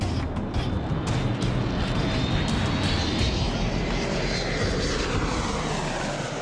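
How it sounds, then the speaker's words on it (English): An airliner's two Rolls-Royce jet engines roaring on a go-around, a loud, sustained close-range blast with a rising whine that sweeps gradually as the aircraft climbs away. "Then, with a blast of his two Rolls-Royce engines, he roars off"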